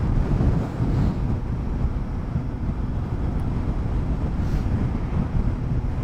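Strong, steady wind buffeting while riding a 2012 Suzuki GSR750A naked motorcycle in sixth gear at cruising speed, a loud low roar of air rushing over the rider with no talking.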